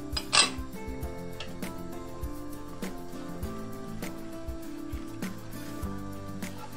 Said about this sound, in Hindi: चमचे को आपने हलाते रहना है, इसको रोकना नहीं है।